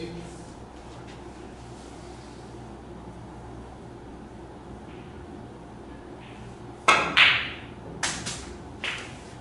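During pink-ball practice on a snooker table, a cue strikes the balls in a few sharp, close clicks near the end, following a long stretch of quiet room tone.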